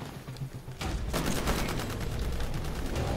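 Gunfire crackles in the shooter game Titanfall, a dense volley of overlapping shots erupting after a brief quieter moment and continuing as a steady loud barrage.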